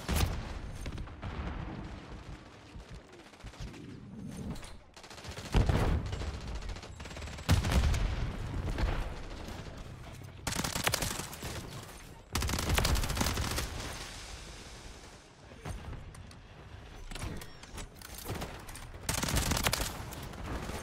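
Submachine gun fire in Call of Duty MW3, loud bursts of rapid automatic shots in repeated volleys with short gaps between them, and booming impacts mixed in, with no talking.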